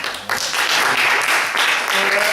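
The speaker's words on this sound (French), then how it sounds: "Applaudissements." Applause from a theatre troupe at the end of an afternoon rehearsal, a dense steady patter of clapping from a small group that swells after a brief start and carries on without pause.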